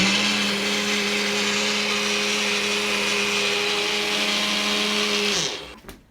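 A kitchen blender whirs steadily at high speed while making a smoothie, a loud continuous motor drone that winds down and stops near the end.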